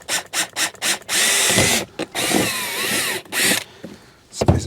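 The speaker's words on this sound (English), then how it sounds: "I'm going to just drill a small hole here. I think this is a 5/16 bit I've got here." A power drill fitted with a 5/16 bit bores a small hole in a steel ammo can, several short loud whirring bursts followed by longer sustained grinding runs at close range.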